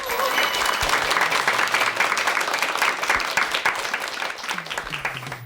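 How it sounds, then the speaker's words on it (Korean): Applause from a lecture audience thanking the speaker of a televised talk on popular songs, a dense, even burst of many hands that fades slightly toward the end. "큰 박수 보내주십시오."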